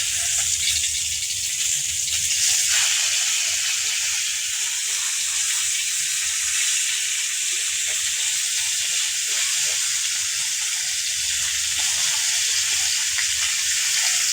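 Tilapia fish frying in oil in a pan, giving a steady, dense sizzle and hiss that runs loud and unbroken throughout, close up with no speech heard.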